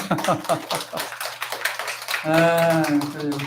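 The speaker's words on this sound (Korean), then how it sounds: "큰 박수 한번" A temple congregation at a Buddhist Jijang memorial dharma service claps in a quick burst of scattered, overlapping hand claps, which soon gives way to a voice speaking.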